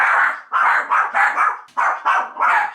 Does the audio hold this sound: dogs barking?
yes